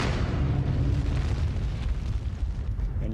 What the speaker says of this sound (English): A supernova explosion can be as bright as 4 billion stars like the sun.